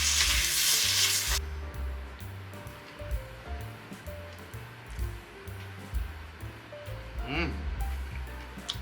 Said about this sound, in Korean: 양념해준 목살을 넣어서 볶아줍니다